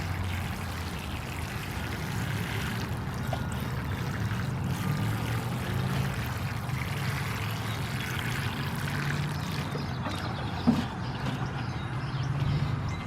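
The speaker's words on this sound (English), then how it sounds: "Now all that's left is to give them a really good drink of water." Water poured over newly planted pea and onion seedlings in a garden, a steady soft rushing splash that runs evenly for about thirteen seconds without talk.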